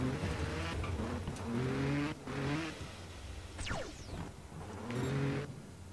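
Motorbike engines in a video game race on a moon track, revving up and dropping in repeated bursts, with a whining pitch sweep in the middle and a faint, steady backdrop.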